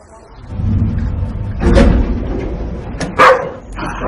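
Dog barking in a dubbed German film scene, a couple of sharp barks standing out over a busy background of movement and room noise, fairly close.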